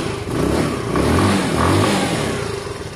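A Sinnis Harrier 125 motorcycle with a new carburettor runs steadily nearby, its engine drone swelling in a couple of gentle revs without any voices.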